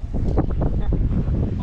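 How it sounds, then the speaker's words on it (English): Strong wind gusts roar across an outdoor bike trail among trees, a heavy, rumbling buffet on the microphone that pulses unevenly and stays loud throughout, with no talking. "it was actually a bit too windy to ride"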